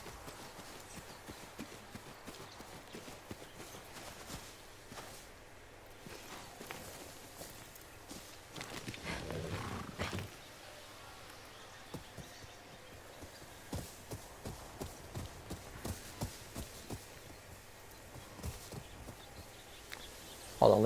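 Horse hooves clip-clop in a steady walking rhythm in Ghost of Yotei, with a brief louder rush partway through and fairly close, even steps throughout, with no voices over them.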